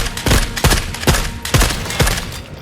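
Automatic M4 rifle fire in the video game The Forever Winter, loud rapid bursts of gunshots repeating about every half second, close and punchy.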